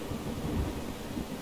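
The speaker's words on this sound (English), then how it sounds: "Lightning strike, and that's it." A low thunder rumble from a lightning strike beside a Long Island Rail Road line, a deep rolling roar under hissing rain.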